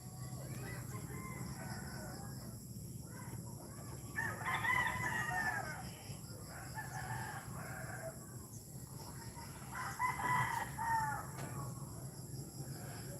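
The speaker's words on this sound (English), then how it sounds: "All the roosters are going off." Roosters in rural Bohol crow repeatedly at a distance, several drawn-out calls overlapping against a steady low background hum, with faint clucking between them.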